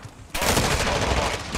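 X12 Akimbo pistols fire in a shooter video game, breaking in suddenly as a dense, rapid burst of shots that continues steadily for over a second.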